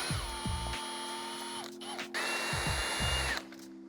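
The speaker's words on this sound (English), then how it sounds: "if you have a 90-degree adapter like this, you can get right in here and remove these a lot faster" Power tool with a 90-degree adapter whirring in short bursts while strut bolts come out of a Mazda NA Miata MX-5 suspension, several close spin-ups and stops with a steady high whine.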